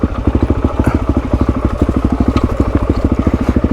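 A motorbike labours up a greasy, slippery slope, its engine pounding in loud, rapid, evenly spaced thumps close by, with a rough crackling edge to each beat.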